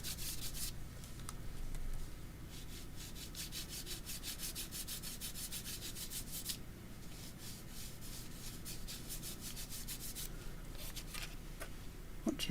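A gloved finger rubs gilding wax over a paper tag in soft, steady scratchy strokes, close and quiet, continuing throughout.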